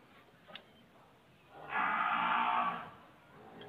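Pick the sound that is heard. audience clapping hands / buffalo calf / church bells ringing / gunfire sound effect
buffalo calf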